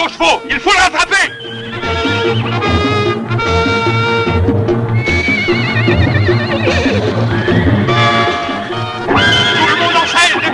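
Horses whinny loudly over a busy, layered background in a 1968 Western film scene, with repeated neighs rising and falling throughout.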